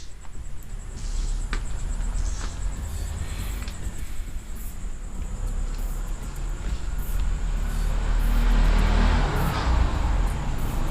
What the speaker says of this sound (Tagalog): Rinig na rinig yung mga sasakyan sa labas.